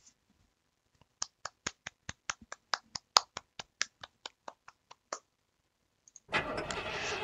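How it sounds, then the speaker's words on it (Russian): In a video game, a car's engine is started with about twenty evenly spaced dry clicks, then a loud broadband roar bursts in and carries on to the end. "Я завела мотор, нажала сцепление и заглохла."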